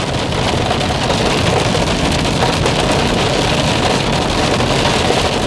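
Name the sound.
hail storm on a car while driving in California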